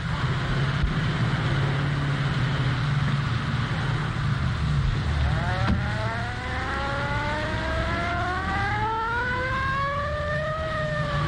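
A car engine in a 1932 film turns over and revs, its rising whine climbing in pitch over a noisy background.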